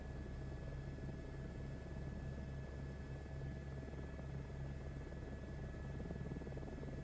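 Steady helicopter rotor drone and engine hum inside Microsoft Flight Simulator 2024, a continuous low throbbing wash with a faint pulsing beat, constant in level and free of talk.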